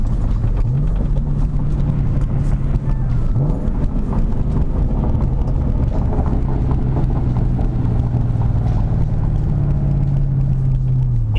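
A Ford Mustang's exhaust rumbles deep and steady as the engine is revved, a loud low drone with a couple of quick rises in pitch, heard from inside alongside road noise and no talking.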